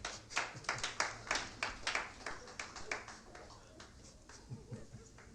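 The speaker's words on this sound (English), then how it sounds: "I think that was insufficient applause." A small audience at a 1978 talk in Philadelphia gives scattered, thin applause, distinct separate claps tapering off to a few faint ones near the end.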